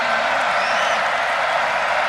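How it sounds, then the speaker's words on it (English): A loud college football crowd roars at Rutgers stadium during an Ohio Bobcats game, a dense sustained wash of cheering with faint voices rising through it. "credit to the Rutgers crowd here that are nice and loud for them"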